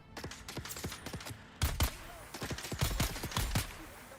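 Rapid gunfire in the video game Dune: Awakening, a string of sharp shots in uneven bursts, close and loud, with a brief pause before a heavier volley.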